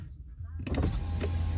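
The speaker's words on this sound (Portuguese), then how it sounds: "Abriu a porta, vidro continua funcionando," Electric power window motor on a Volkswagen T-Cross running with the car switched off, a steady whir near at hand with a brief click as it starts.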